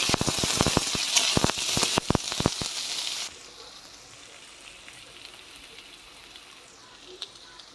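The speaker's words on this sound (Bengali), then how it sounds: "পেঁয়াজটা একটু লাল লাল করে ভেজে নেব।" Chopped onions frying in a pan, a close crackling sizzle broken by scraping stirs for a few seconds, then settling into a softer, steady hiss.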